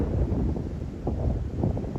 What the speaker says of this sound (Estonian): Päris hea tuul on siin.